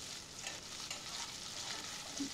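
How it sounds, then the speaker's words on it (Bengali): Chopped onion and garlic fry in a pan with a steady, soft sizzle and occasional stirring scrapes, close and fairly quiet, with no voices. "পেঁয়াজ আর রসুন দুটোই অনেকক্ষণ সময় নিয়ে খুব ভালো করে ভেজে নিতে হবে।"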